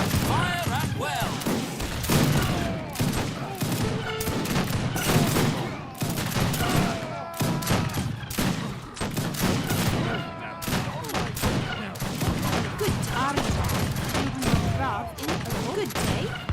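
Massed rifle volleys in Age of Empires 2 Definitive Edition, with the Sovereigns of South Asia mod: dense, continuous crackling gunfire and thumps without a break, mixed with game unit voice responses.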